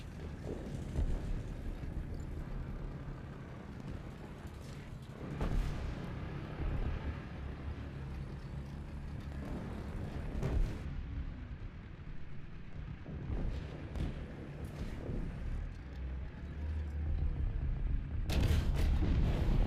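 Tank cannon fire in the combat game War Thunder: several heavy booms at intervals over a constant low rumble of gameplay noise, with a sharp, loud blast near the end.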